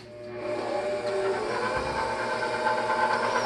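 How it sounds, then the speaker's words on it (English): Stand mixer turning pizza dough with a paddle attachment on speed 2, giving a steady, loud mechanical whir with a constant tonal hum that runs unbroken throughout, with no talking. "Looks like I have my mixer on 2."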